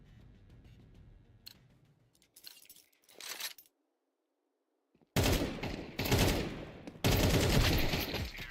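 Bursts of rapid video-game gunfire in a tense firefight, faint scattered shots early on, then a silent gap, then loud dense volleys erupting in quick repeated bursts.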